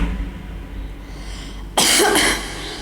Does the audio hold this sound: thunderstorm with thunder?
no